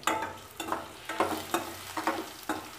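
Finely chopped ginger frying lightly in a pan with cashews for rava pongal, a soft sizzle broken by regular stirring scrapes about every half second, quiet and close.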